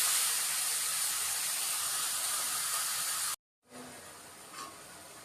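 Ridge gourd tossed with black cumin into hot oil in a pan, giving a loud, steady sizzle for over three seconds, then a brief hush before a quieter sizzle returns.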